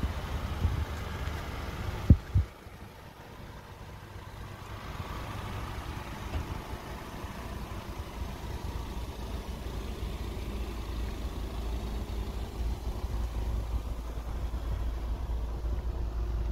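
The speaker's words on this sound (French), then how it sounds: "là on peut entendre le bruit du moteur" A 330 hp Ford Mustang engine idles steadily with a low, smooth rumble, continuous and fairly quiet, after a brief knock near the start.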